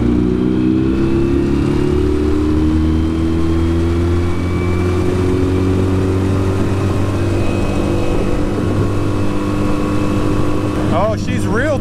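A Yamaha 9.9 outboard motor on a jon boat runs steadily at a loud, constant drone with a shifting pitch, near and continuous, with a faint voice coming in at the end.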